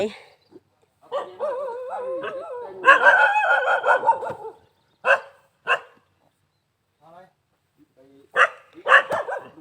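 A dog barks out in the countryside near rice fields, in several separate bursts with pauses between them, close and fairly loud, and a few quieter yips and whines between barks.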